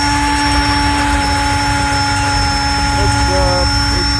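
Rototiller engine running in a spring garden in the Okanagan Valley, a loud, steady droning roar with sustained tonal whine held throughout and no pause.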